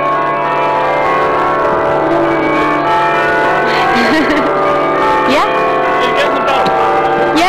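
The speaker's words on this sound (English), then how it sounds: "Yay, can you hear the bell? Yes. This is York Minster." Church bell at York Minster rings from its tower while people chat nearby, the steady tolling tones sustained under continuous conversation in an outdoor city setting.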